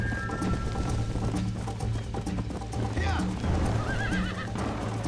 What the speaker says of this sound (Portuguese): O cavalo já tá muito louco.